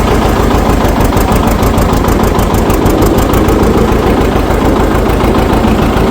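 A John Deere 730 tractor runs loud and close while being driven, its engine a steady, rapid low thumping chug with constant vibration and no talk.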